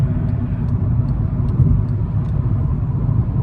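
A 2012 VW Golf TDI manual diesel cruising in sixth gear on the highway at about 70 mph: a steady, loud low cabin drone of engine and road rumble with no speech.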